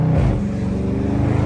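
A widebody Dodge Hellcat engine idles and rumbles steadily at close range, a low throbbing drone with no voices over it.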